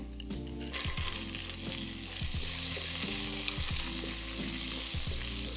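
Frozen vegetables fry in a hot pan for shrimp fried rice, a steady loud sizzle with clanking stirs from a utensil scraping the pan every second or so.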